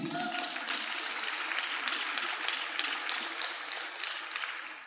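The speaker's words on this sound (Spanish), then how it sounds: "Un aplauso al Señor." A church congregation applauds the Lord, dense sustained clapping from many hands filling the room and then gradually fading at the end.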